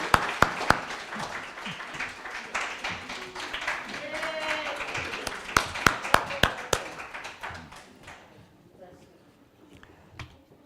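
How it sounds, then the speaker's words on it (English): A congregation at a Sunday service at the Center for Spiritual Living in Beaumont claps for new members. Sharp, uneven individual claps come over murmured voices and thin out toward the end. "Let's give them all a big round of applause."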